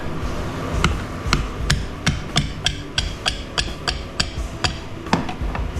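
A hammer strikes a 3-horsepower electric motor being scrapped for copper wire, about a dozen sharp metallic blows at a steady, fairly quick rhythm, close and clear over a low background rumble.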